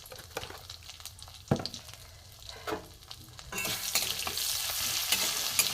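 Grated ginger with ground cumin and coriander frying in a pan for gourd dal, a few sharp stirring scrapes over a quiet sizzle that swells into a louder steady fry halfway through.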